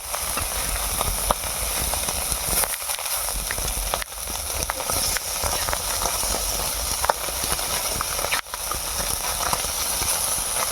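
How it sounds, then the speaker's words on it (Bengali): Puti fish frying in a pan for a village-style tamarind sour dish, giving a steady, dense sizzle and hiss of hot oil that runs unbroken throughout with small crackles, close and alone. "এখন আপাতত ভাজার কাজ চলছে। দেখতে পাচ্ছেন পুঁটি মাছ ভাজা হবে"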